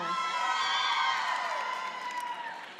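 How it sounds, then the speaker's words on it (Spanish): At a carnival comparsa presentation in Errenteria, a large crowd cheers and whoops loudly and steadily, then fades slightly toward the end. "con este aplauso fuerte vamos a recibir a la próxima comparsa que llega desde Lezo"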